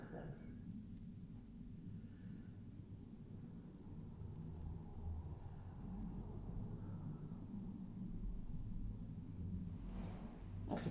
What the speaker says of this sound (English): That's a plane going over